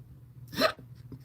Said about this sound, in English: Excuse me if you heard that belch.